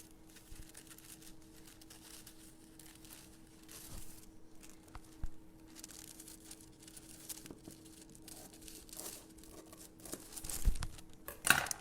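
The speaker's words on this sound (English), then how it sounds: "let's cut a smaller piece here" Scissors snip through a double layer of craft paper for a papercraft card kit, giving faint, scattered crinkles and cuts with soft paper rustling, growing slightly louder near the end.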